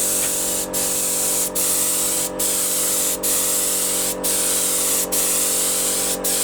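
An air spray gun sprays paint onto a trike, a close, loud hissing spray in regular bursts, each broken by a brief pause.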